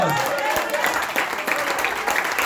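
Congregation clapping steadily through a church service, a dense, loud, continuous wash of hands with a few sharper accents, filling the room with no pause.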